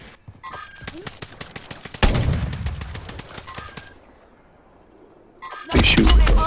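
Video game gunfire in a live-streamed solo match: bursts of rapid shots crackle over the first few seconds, then fade to quieter ambience before a loud blast near the end, with players talking throughout.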